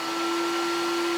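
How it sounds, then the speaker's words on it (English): A workshop vacuum runs at full power, a steady loud whine with an even rushing roar and a strong constant tone, close and alone with no breaks. "I need the vacuum. Third time. Vacuum on."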